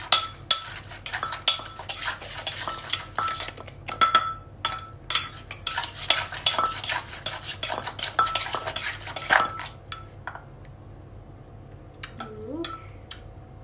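Rapid, uneven knocking and clattering of a pestle pounding papaya salad in a mortar, with scraping and clinks in bursts, close by, easing off near the end.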